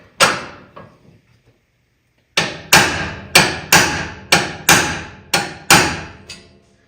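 Sharp metallic hammer strikes on a punch ring out while installing coilovers on a 1968 Mustang, a couple at first, then a pause followed by a steady run of about eight evenly spaced blows.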